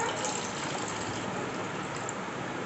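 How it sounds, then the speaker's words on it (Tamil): Water pours steadily into a vessel, a continuous broadband gush lasting a few seconds with no voices over it. "முதல்ல வந்து ஒரு ஏனத்தில் தண்ணியை ஊற்றிக்குவோம்."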